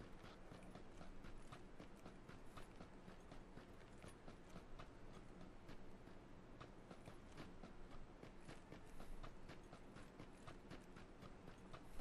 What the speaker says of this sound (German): Alter, die Schritte sind echt voll laut, barfuß.